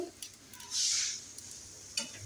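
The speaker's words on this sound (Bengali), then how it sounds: "এখন জিরা ভাজবো। মানে ভাজছি, গুঁড়া করতে হবে।" Cumin seeds frying in a pan in a home kitchen give a faint, close sizzle that swells into a brief hissy rush midway, with light stirring clicks scattered throughout and no voices.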